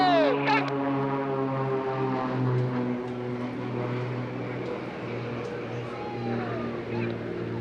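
Extra 300 aerobatic propeller planes from the Blades team fly aileron rolls over an airshow at Eastbourne. Their engines give a steady droning roar, with a pitch-shifting pass, under a voice talking over loudspeakers.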